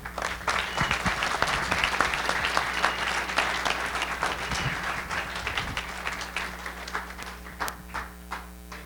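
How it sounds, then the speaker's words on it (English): A crowd breaks into sustained applause, dense clapping that holds steady for several seconds before thinning toward the end. "Everybody, let's stand up here and give Lance Edwards a big hand of applause."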